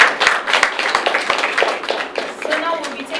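Audience clapping at a book launch, a scattered, moderate round of applause in a room, with voices talking over it.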